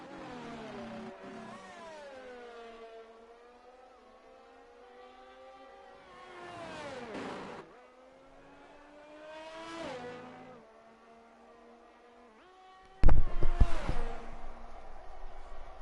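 Race car engine in a sim racing video game, revving and shifting through gears with rising pitch sweeps repeated several times, moderately quiet, followed by a louder crackling burst near the end.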